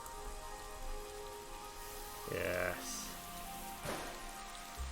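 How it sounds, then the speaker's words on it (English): Rain in the NoLimits 2 roller coaster simulation of Air at Alton Towers, a steady hiss of falling rain throughout, with a brief voice and a few tonal game sounds over it. "let's have a bit of rain"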